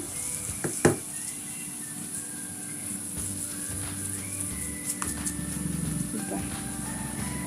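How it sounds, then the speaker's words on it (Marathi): Flat potato vadas deep-frying in hot oil for Mumbai-style vada pav, a steady soft sizzle and crackle running throughout with a sharper clatter near the start. "इकडे आपलं हे तळत आहे एकदम हे असं खुसखुशीत भज्यासारखं तळून घ्यायचं आहे आपल्याला"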